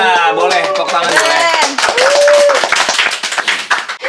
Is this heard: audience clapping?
yes